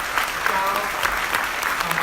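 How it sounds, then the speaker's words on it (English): An audience at a 5G infrastructure summit keynote panel claps in a dense, steady wash of applause that fills the whole short stretch, fairly close, without a break. "Big round of applause, please."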